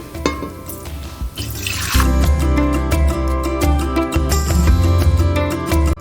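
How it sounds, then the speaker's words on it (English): Apple cider pours in a continuous gurgling stream into a container, close and fairly loud, with a faint tonal background throughout. "I'm gonna just pour it into the container"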